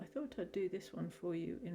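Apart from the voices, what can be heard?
No distinct noise like a dog, phone or traffic.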